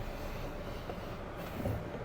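A train at the Somerset entrance station in Kensington makes a faint, steady rumble throughout, heard alone without speech.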